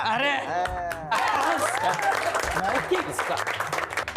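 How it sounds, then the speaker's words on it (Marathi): Applause for two performers on a Marathi TV show set, clapping breaking out after a short spoken exclamation and continuing with mixed voices and laughter over it. "आता या दोघांसाठी एकदा जोरदार टाळ्या होऊन जाऊ द्या"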